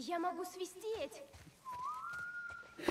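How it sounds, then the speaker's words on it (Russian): A character whistles in the video game The Last of Us Part 1, a few short warbling notes followed by a long, rising, sustained tone, fairly faint in a quiet scene. "Я могу свистеть."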